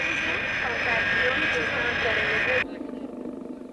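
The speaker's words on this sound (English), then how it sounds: "A yellow Boeing 707 freighter lumbers to a parking space on the tarmac." A yellow Boeing 707 freighter taxiing on airport tarmac, a loud steady jet engine whine and roar that cuts off abruptly into quieter background with a voice.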